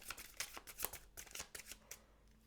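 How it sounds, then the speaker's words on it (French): Tarot cards shuffled in quick riffling bursts, a steady run of crisp papery flutters and snaps close up, with no talking. "on va aller tirer une carte avec le Shozen Tarot pour conclure ce tirage pour vous les poissons"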